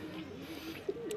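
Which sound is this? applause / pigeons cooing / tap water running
pigeons cooing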